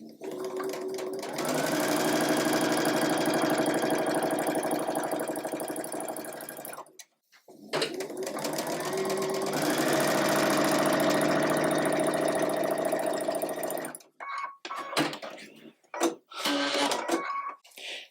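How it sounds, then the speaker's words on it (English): Sewing machine stitching fabric for a quilt block at a quarter-inch seam, two long continuous runs of steady mechanical whirring, loud and close, separated by a brief pause and followed by a few short stop-start bursts. "we're going to sew that at 1/4 of an inch"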